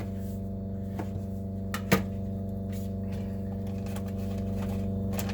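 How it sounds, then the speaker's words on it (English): A laundry pump runs steadily in the background, a constant low droning hum with stacked harmonics that holds level throughout. A few faint knocks and clicks occur over it, and no one speaks. "I'm sorry about the pump noise in the background"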